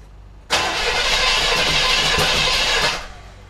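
A 1978 Chevrolet El Camino engine cranks and catches, a loud, close roar that holds for about two and a half seconds before dropping away, with no voices.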